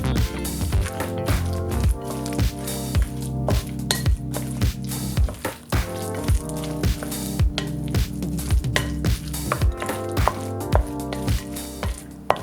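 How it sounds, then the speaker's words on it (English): Vegan chicken salad with dried cranberries, relish, Dijon mustard, seasoning and vegan mayo is stirred up close in a bowl, giving steady wet squishes and sharp clinks of utensil against the dish, with no talking. "Make sure you mix all the ingredients until it's coated totally with the mayo"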